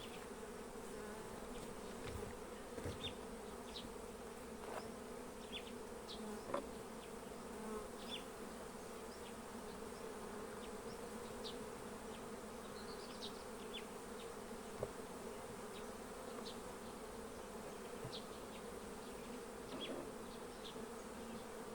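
Honeybees hum steadily around a ten-frame hive during inspection, a continuous dense buzz with individual bees passing close now and then, at even, moderate loudness throughout.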